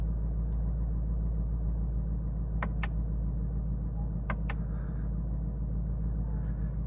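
A 2021 Ford Mustang Mach 1 with a 480-horsepower 5.0 V8, set in Sport Plus mode, idles with a deep, steady rumble close by, broken only by a few sharp clicks.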